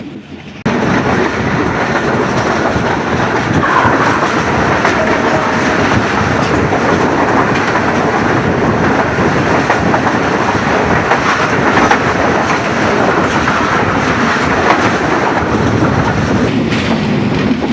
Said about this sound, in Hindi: 7:36 पर ट्रेन हमारी पास कर रही है माछीकोट रेलवे स्टेशन